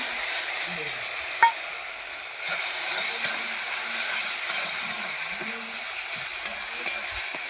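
Mustard paste hits a hot frying pan over softened tomato, hissing in a steady sizzle with faint stirring clinks and low background noise throughout.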